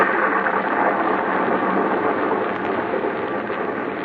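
Old-time radio drama storm effect: steady hissing rain with low thunder rumble, dense and continuous, no voices.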